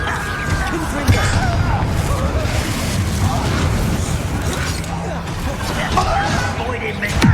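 A Confringo fire spell blast in Hogwarts Legacy, combat booms and crashes rolling continuously through the whole stretch amid busy game effects, with a sharp hit near the start and a voice talking over it.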